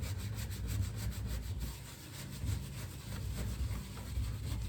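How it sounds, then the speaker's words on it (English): A brush is worked back and forth spreading wax over a surface, giving rhythmic scratchy rubbing strokes, close and moderately quiet, with no talking. "So when you're kind of brushing to the sides, you're still getting some wax on."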